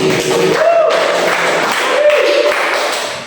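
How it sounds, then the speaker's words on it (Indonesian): Classmates clap for a student in an eleventh-grade high school lesson, a steady dense patter of hands filling the room for a few seconds, with some faint voices mixed in. "Tepuk tangan buat Mas Ali"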